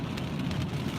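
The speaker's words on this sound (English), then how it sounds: "Thanks for your engine noise there, big boy" A car hauler truck passing on the road, its engine a dense, broad rumbling roar held steady and fairly loud throughout, with no voices.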